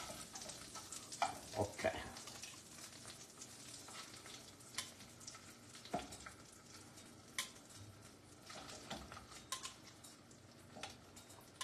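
Scallops frying in a hot pan on a kitchen stove, giving a steady low sizzle with scattered clinks and stirring scrapes of utensil against pan, and one brief spoken word near the start.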